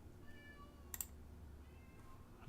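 A cat meows several times outside a door, faint and distant in a quiet indoor room, with a couple of sharp clicks in between.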